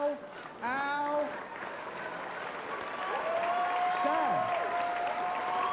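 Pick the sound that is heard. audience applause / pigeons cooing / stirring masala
audience applause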